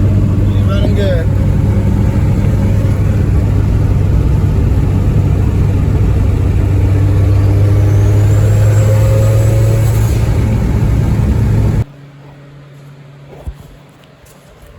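Tuned 450 hp Honda Civic EP3 cruising on the road, a loud steady engine drone with a slight rise in pitch, then cutting abruptly to a quiet cabin-like hush near the end.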